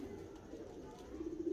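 Pigeons kept by a breeder in a loft coo softly in a brief, faint murmur, with a low throaty call rising near the end.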